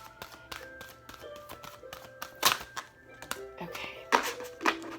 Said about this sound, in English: Sometimes these cards can be a little challenging to shuffle. They're very large and they have like a gloss on them.